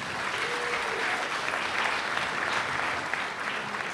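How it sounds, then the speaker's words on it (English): Steady crowd applause at a school sports banquet honors a championship boys wrestling team, a thick, continuous patter of many hands at moderate volume. "Give them a round of applause."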